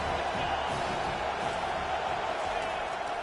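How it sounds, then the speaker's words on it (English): Stadium crowd noise from the college football video game NCAA 25 fills the scene as a steady, dense roar on third and long, with a commentator talking over it. "Here comes the crowd trying to make it tough on 3rd and long."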